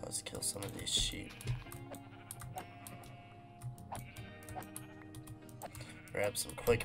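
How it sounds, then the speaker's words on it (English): Sheep bleat in a Minecraft survival game, short game-voice bleats mixed with fast computer keyboard typing and clicks while a player talks over the gameplay. "Let's kill some of these sheep."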